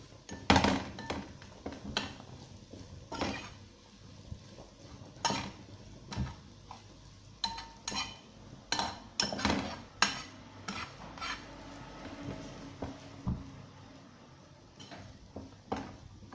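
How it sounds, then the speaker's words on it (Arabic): Rice pudding stirred in a pot with a spoon, scraping and clinking against the metal in an irregular, steady rhythm of close, fairly loud strokes, with no voices. "المهم ان احنا نقلب كويس جدا كده واحنا شغالين على طول"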